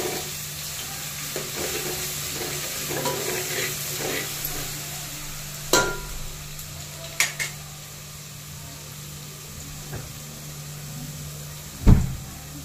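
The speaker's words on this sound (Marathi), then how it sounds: "तेल आपलं गरम झालेलं आहे. आता आपण याच्यामध्ये अद्रक लसूण पेस्ट टाकून घेऊया." Ginger-garlic paste sizzling in hot oil for misal pav, a steady frying hiss with occasional clinks of a spoon or pan, fairly close and moderate, with no talk.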